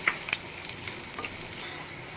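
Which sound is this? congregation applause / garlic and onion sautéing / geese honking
garlic and onion sautéing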